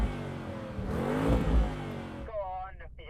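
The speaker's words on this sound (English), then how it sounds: "Start with this Porsche." Deep engine of a Porsche V8 sports car revving hard, rising to a loud roar, then cutting off as someone speaks.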